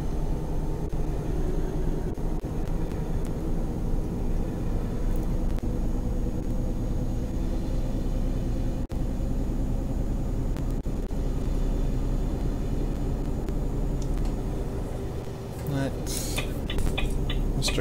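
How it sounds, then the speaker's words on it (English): An airplane takes off in the truck-driving game Euro Truck Simulator 2, a broad low roar that blends into the steady rumble of the truck's engine and holds for the whole stretch. "Plane taking off."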